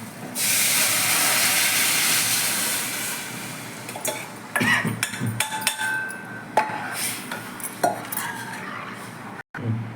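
A spice mixture of coconut, fennel, chilli powder, coriander powder, turmeric and tamarind poured into a hot pan for fish curry, giving a loud, steady sizzling hiss at first that breaks into crackles and clinks of utensils.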